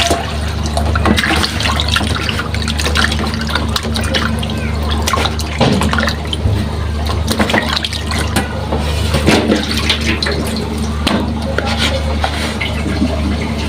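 Shing fish (stinging catfish) rinsed under a running tap in a home kitchen: a steady, fairly loud rush of water with a low hum underneath and occasional splashes and clatters throughout.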